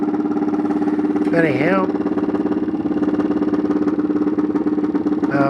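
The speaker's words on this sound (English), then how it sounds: "I'll first switch the motor off as it's a bit too loud." A homemade mechanical TV's motor spins a 40 cm plywood disc, giving a loud, steady droning hum with a sustained pitch that runs throughout, under a man's speech.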